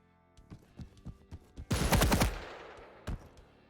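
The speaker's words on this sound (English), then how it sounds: "do some shots at the height of your feet, and the nails gotta push you up" Rapid nail gun fire in the video game Quake Champions: a run of sharp, evenly spaced shots, then a loud roaring burst of blasts that fades, with one more crisp shot near the end.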